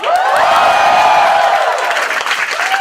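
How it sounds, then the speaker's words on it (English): A studio audience breaks into loud, sustained applause and cheering for comedian Vir Das, dense clapping with scattered whoops that slowly tapers off. "Special applause for Veer Das."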